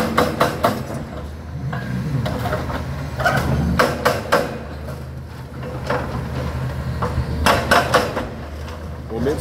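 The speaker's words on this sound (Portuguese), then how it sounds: "Olha o martelão ali batendo agora," Repeated heavy pounding blows from a hydraulic hammer demolishing an old bridge over the Perequê River in Porto Belo, irregular bursts of loud impacts over a rumbling engine at a distance.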